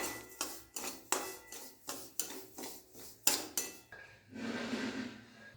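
Semolina dry-frying on low gas in a pan, stirred with a utensil: about ten sharp scrapes and knocks in a steady rhythm, close and distinct, then a softer continuous rustling scrape to finish.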